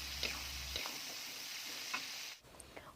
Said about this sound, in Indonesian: yang terakhir masukkan irisan daun bawang. Tumis sebentar.